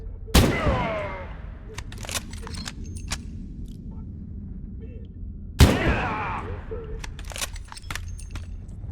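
Two loud rifle shots in the video game Abiotic Factor, several seconds apart, each with a long echoing tail, separated by quiet clicks and small handling noises.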